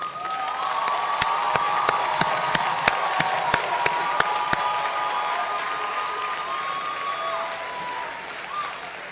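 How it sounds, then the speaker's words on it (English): A graduation audience applauds steadily in a large hall, a dense wash of clapping with a few sharp, louder claps standing out early on, while a sustained tone hums beneath. "Give yourself a round of applause."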